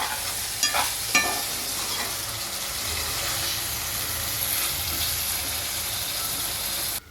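Mushroom masala fries in a pan while it is stirred. A steady sizzle runs throughout, and a couple of scraping knocks near the start come from the spoon against the pan.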